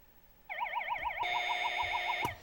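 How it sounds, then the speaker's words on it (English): A warbling electronic siren signals the end of a high school quiz bowl game, starting abruptly, cycling rapidly in a steady wail for about two seconds, then cutting off sharply; close and alone. "That siren does denote the end of our game"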